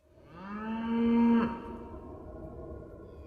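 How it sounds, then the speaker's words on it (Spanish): Cattle on the western American prairie give a single long, low moo that swells and then trails off, moderately close and alone. "Todas las vacas no han muerto."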